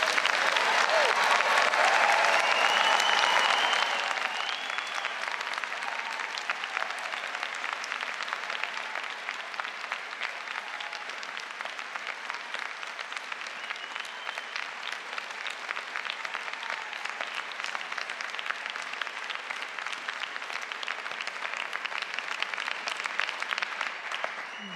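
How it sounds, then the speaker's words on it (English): Huge, sustained round of applause from a large crowd at a Newport university degree ceremony, honouring the graduates. It opens with a louder burst mixed with cheering, then holds steady as dense, close clapping for about twenty seconds. "huge round of applause"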